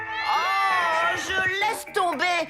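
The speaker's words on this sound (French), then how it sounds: "mais c'est aussi le chat le plus bruyant." A cartoon cat meows loudly in a long drawn-out yowl followed by a shorter cry, close and prominent.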